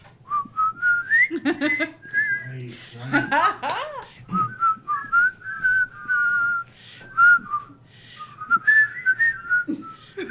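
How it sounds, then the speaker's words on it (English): A person whistles the Colonel Bogey March, a jaunty marching tune, in short, bouncy phrases, close and clear, with brief laughter and a few spoken words between notes. "an old World War I whistling tune, the Colonel Bogey March"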